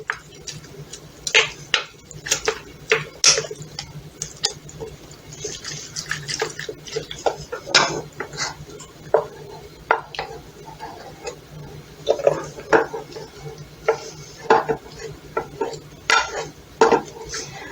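Macaroni and cheese being stirred in a pot while slow cooking, with irregular scraping clinks of a spoon against metal and wet sloshing, close and fairly quiet.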